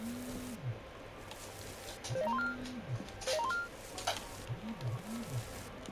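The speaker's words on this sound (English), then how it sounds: "Someone's ringing me, don't need to speak to you right now." A phone ringing in the video game Arcade Paradise gives a few rising electronic chimes in short bursts. A low, repeating tone lies under it, and nobody speaks.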